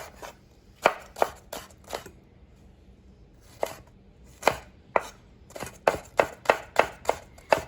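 Knife chopping red bell pepper into strips on a cutting board for corn salsa: sharp, close chops in quick bursts, a cluster early, a lone cut midway, then a rapid steady run of strokes near the end.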